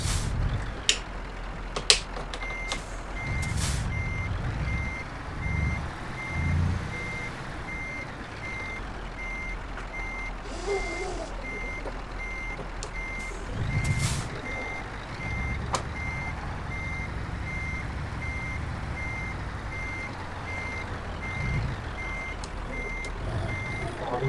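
An articulated truck in Euro Truck Simulator 2 gives out a steady, regularly repeating reversing beep for the whole stretch, with occasional sharp clicks and a low background hum and no talking.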